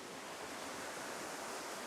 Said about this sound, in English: this water wasn't flowing last time on this side, so we've got water coming here